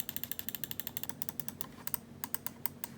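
Button clicks from a budget Red Dragon M602 gaming mouse come in quick, crisp, evenly spaced bursts, close up over a faint steady hum, with a brief pause before the clicking resumes.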